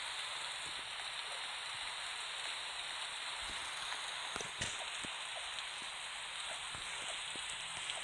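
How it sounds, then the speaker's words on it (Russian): Rain falls in the video game 99 Nights in the Forest, a steady, dense hiss with scattered ticking drops throughout, with no voices. "и дождь начался."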